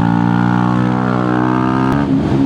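A 50cc moped engine idles steadily and loud at close range, holding a constant buzzing drone before a brief rev change near the end.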